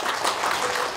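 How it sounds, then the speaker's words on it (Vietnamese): Live-show audience applauding a singer, a dense, steady burst of clapping that fills the whole moment at close range. "anh Nam Lê, một tràng pháo tay đến từ San Jose."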